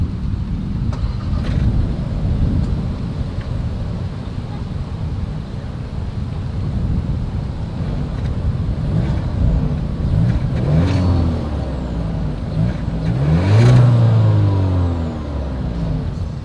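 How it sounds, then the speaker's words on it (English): Exhaust and engine of a 2023 Volkswagen Taos idling with a steady low rumble, then rising in a revving sweep near the end, heard close outdoors with some wind buffeting on the microphone. "As always, here is that exhaust clip."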